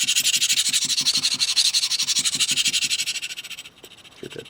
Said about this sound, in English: This is just me sharpening somewhat fastly.